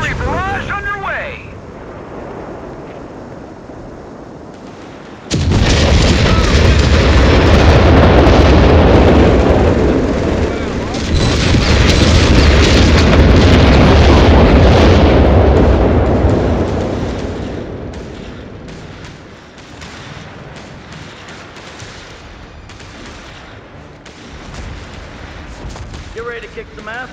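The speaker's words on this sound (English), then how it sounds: "Artillery barrage underway!" An artillery barrage thunders in Company of Heroes 3 during the Salerno landing, with heavy, continuous booming explosions that swell loudly for about ten seconds, then fade into distant rumbling while soldiers shout.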